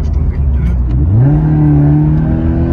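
A Toyota GT86 with an aero pack revs up after a downshift, its engine note rising smoothly and then holding a steady drone, loud and close from inside the car.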